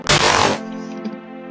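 Slime TNT exploding in a modded Minecraft-style game, a single loud, sharp blast lasting about half a second, then a ringing tonal tail that fades out.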